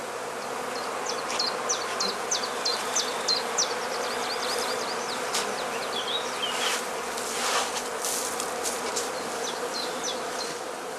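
Honey bees hum steadily around heather skep hives at a spring apiary, a dense, continuous buzz with individual bees zipping close past at intervals, and no voices.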